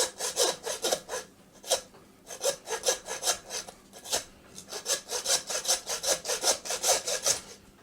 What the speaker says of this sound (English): you want to be sawing them